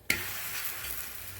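Parotta hits a hot pan and starts to fry, with a sharp initial contact sound followed by a steady, quiet sizzle.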